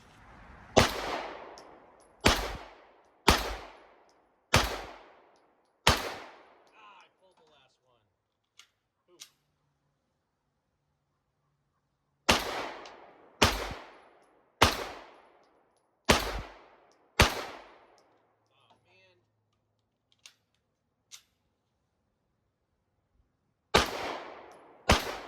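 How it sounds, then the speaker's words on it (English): Sig Sauer M17 (P320) pistol fired at a range, sharp loud shots in three strings of about five each with gaps between, the echoes decaying quickly, plus a few faint clicks during the pauses. "I'm gonna be shooting at these 3 targets here, 5 shots each"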